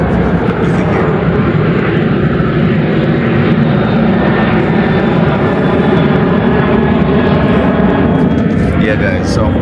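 A fixed-wing airliner taking off from an airport runway on a Sunday evening, a loud, continuous engine roar heard from a moderate distance that holds steady throughout, with no talk over it.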